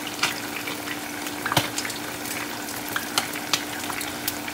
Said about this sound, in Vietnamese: Rồi chờ nó sôi lên cho cà chua nó tan